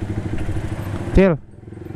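Motorcycles and cars idle and putter in a night-time traffic jam, a close engine rumbling steadily beneath a brief shouted voice.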